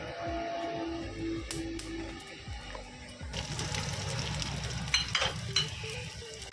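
Cumin, black pepper and white sesame being dry-roasted in a pan, with steady stirring scrapes and a soft crackle, growing busier and louder halfway through with a few sharp clinks.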